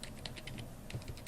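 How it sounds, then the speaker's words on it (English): Quick run of soft keystrokes as commands are typed on a computer keyboard, an even clicking rhythm heard alone at low level for just over a second. "So for this, type the commands sudo"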